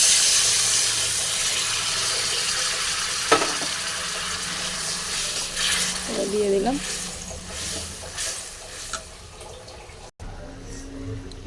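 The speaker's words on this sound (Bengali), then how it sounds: "চিংড়ি মালাইকারি ঝোলটা ফুটছে" Soft bubbling and hissing of coconut milk prawn malai curry gravy simmering in a pan, with occasional clinks and a short spoken phrase.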